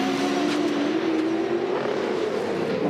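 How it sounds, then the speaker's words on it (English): Touring cars racing at the Sandown 500 in 2006, a loud sustained engine roar with a steady droning pitch that dips slightly as a car brakes into a corner, heard close with no talk. "Jason Bright skating in on the rear brakes then into turn 1"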